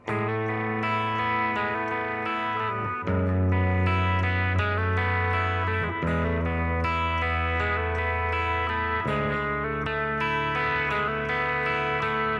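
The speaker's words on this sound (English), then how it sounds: "if you play them together, it sounds like this." A distorted electric guitar plays a lead melody over sustained chords, loud and steady with effects, shifting to new chords every few seconds.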